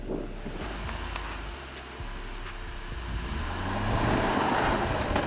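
A 2007 Volvo XC70 with an aspirated 3.2-liter gasoline engine driving off-road, a low engine rumble with rising revs toward the end and scattered clicks and knocks from the chassis, heard from nearby without talk.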